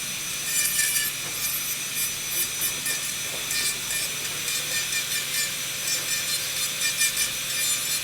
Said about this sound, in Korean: 버클 교두를 만들고 있어요.